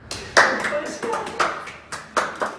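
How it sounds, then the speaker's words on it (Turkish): Clapping from a small group inside a home as police officers arrive with a lit birthday cake, uneven bursts of applause mixed with voices and cheerful talk. "Ekipler evde alkışlarla karşılandı"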